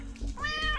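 A cat meows once in a rising, drawn-out tone within the video game Turnip Boy Commits Tax Evasion, sounding clear over a low hum.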